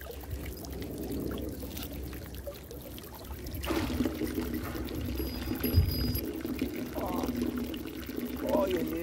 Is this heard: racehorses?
no